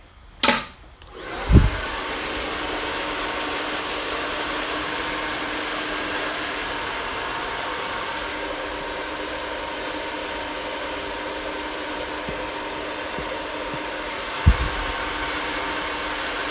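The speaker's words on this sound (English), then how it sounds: "Let me just dry it out a little more." A hair dryer runs continuously on hair, a steady loud airy whoosh held for over ten seconds, with a couple of brief clicks and bumps at the start and near the end.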